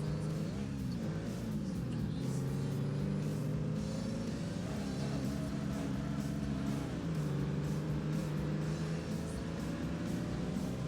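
An ATV engine in ATV Offroad Fury 4 drones and revs continuously, pitch climbing and dipping as the throttle is worked during an off-road race, loud and up close throughout.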